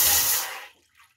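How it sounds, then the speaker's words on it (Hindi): A glass of water hits a heated pan in one short rushing splash that fades away within a second. "भगोना गर्म हो गया है तो अब हम इसमें एक ग्लास पानी ऐड कर देंगे"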